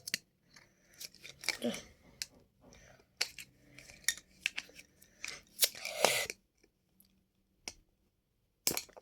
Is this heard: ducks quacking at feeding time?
no